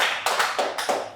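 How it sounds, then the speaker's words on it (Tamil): A live studio audience at a Tamil television show claps in a few sharp bursts, close and moderately loud, forming a short, uneven round of applause. "அதனால் பெரிய கைத்தட்டல் கொடுக்கலாம் அதுக்கு"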